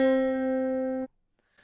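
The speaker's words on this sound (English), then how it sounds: "what I've done is recorded a sample from it of just like plucking one note" A single sampled note plucked on a small instrument rings out steady and bright for about a second, then cuts off abruptly into silence.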